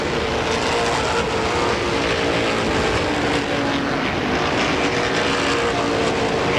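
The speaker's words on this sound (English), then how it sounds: "Rodney Arndt hugging the back bumper of race leader Rick Wiley as they move down the back chute" Race cars roar down the back straight at Holland Speedway, a dense, continuous, loud engine drone from a field of stock cars with no pauses.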